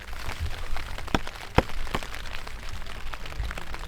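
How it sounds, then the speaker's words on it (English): Rain patters steadily on a tent along Iceland's Laugavegur and Fimmvorduhals hiking trail after a night of rain, a dense close hiss broken by a few sharper, louder drops. "it's just been raining all night"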